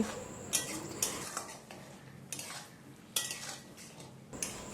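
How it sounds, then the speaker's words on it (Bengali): Hog plum (amra) chutney with sugar being stirred in a pot: a spoon or spatula scrapes and taps against the metal in a steady rhythm of repeated strokes, quiet and close, with no talk. "এখন চিনির সঙ্গে আমড়াটা ভালো করে নেড়েচেড়ে মিশিয়ে নিচ্ছি"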